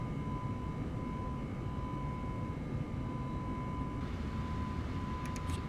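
Airbus A321 CFM LEAP jet engines hum in a flight simulator, a steady, even drone with a constant tonal whine running throughout and no talking.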